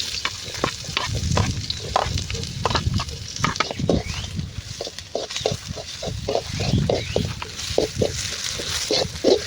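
Onions frying in hot oil for a simple Maggi noodle dish, a close, crackling sizzle broken by frequent spatula scrapes and taps on the pan in an uneven, busy rhythm.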